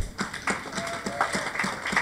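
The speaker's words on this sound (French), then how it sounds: "Applaudissez pour vous-même" An audience gives scattered, fairly faint applause, with individual claps standing out in a loose rhythm.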